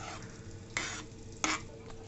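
Apple jam cooks in a pan with a soft steady bubbling sizzle, broken by two brief scraping strokes of a spoon stirring through the thickening jam, close and fairly quiet.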